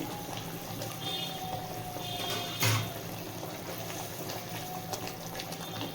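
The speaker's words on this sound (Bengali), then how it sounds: "গ্রেভিটা ফুটে এসছে এই সময় ভেজে রাখা মাছগুলো আমি একে একে দিয়ে দেব" Mustard gravy for a sarputi fish recipe simmering and bubbling in a pan as pre-fried fish pieces are added one by one, a steady soft watery bubbling close by with a brief louder splash midway, no talk.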